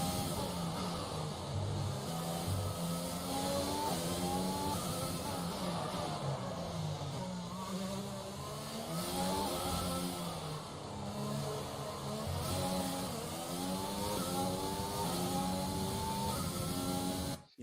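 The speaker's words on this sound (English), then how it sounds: "The engine has been too loud for I don't know how many laps now." A Formula 1 race car engine in F1 2020 during a race at Monaco screams steadily and loudly throughout, its pitch rising and falling in repeated sweeps as the car accelerates and shifts through gears.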